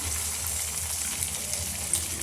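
Medu vada batter frying in hot oil, a steady close sizzling hiss that stays even and fairly loud throughout, with no voices.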